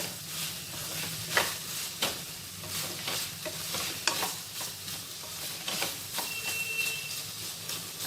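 Potato pieces fry with ginger-garlic paste in a pan, giving a low, steady sizzle under repeated scraping stirs that come in an uneven rhythm over several seconds, with no voices.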